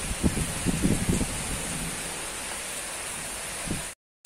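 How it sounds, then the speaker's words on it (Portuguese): Heavy rain falls in a dense, steady hiss, with a few low rumbling thumps near the start that fit distant thunder. "olha aqui quanta chuva"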